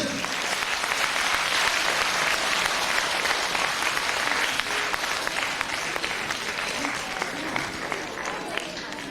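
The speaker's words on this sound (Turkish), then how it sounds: "Maşallah kızgın alkış." Applause fills a hall at a graduation ceremony for a Quran course and mother-tongue kindergarten, a continuous, moderately loud crowd clapping that holds steady throughout.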